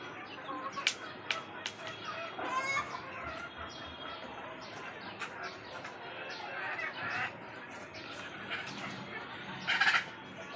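Native chickens cluck and squawk on a rooftop beside wood-fire cooking, with scattered calls, a few sharp bursts and some wing flapping, close and moderately loud.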